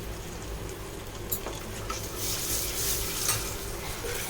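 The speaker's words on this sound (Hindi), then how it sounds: "ये घी में मैंने मसाले पका लिए हैं। अब इसमें गरम मसाला" Garam masala and other spices sizzling in ghee while being stirred, a close crackling fry with occasional clinks of a spoon against the pot, growing slightly louder toward the end, without talk.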